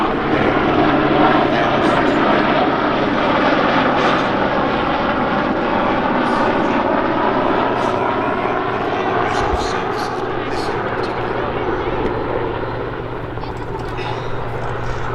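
A Westland Sea King helicopter at an air festival drones loudly and steadily with a rotor and engine roar, while someone talks over it at close range.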